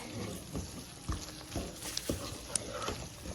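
Fish curry masala frying in oil in a pan, a steady low crackle and sizzle with scattered soft stirring knocks, close and moderately quiet with no talking.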